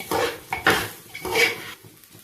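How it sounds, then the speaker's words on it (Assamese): A spoon scrapes and clatters against a pot as rice with turmeric and salt is stirred and fried, several short metallic strokes close by. "মই এইখিনি সুন্দৰকৈ লৰাই বগৰাই ভাজিম"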